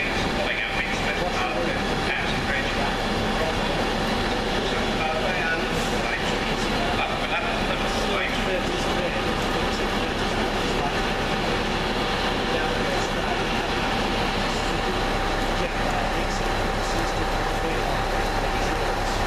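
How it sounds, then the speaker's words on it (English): A Virgin train, class 390, pulls out of Crewe station bound for London Euston, its steady rumble and rolling wheel noise filling the platform, and a voice speaks over the sound. "This leaving now is the 12:01 of Virgin train service off Edinburgh Waverley to London Euston via Birmingham New Street"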